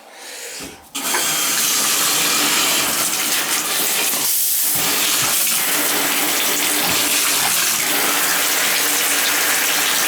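Water gushes steadily from a Moen bathtub spout, loud and close, and keeps running after a short start.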